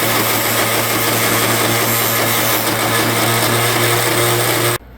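A power tool polishes a handmade bronze knife blade with a loud, continuous high whir and grinding hiss, steady for several seconds before cutting off abruptly.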